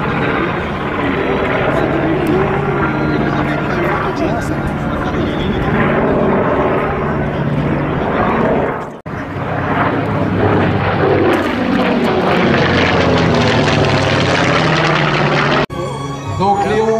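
Loud, continuous roar of a Focke-Wulf Fw 190 A-8 propeller fighter plane passing close at the La Ferté-Alais airshow, the engine drone rising and shifting in pitch, with a brief dip midway.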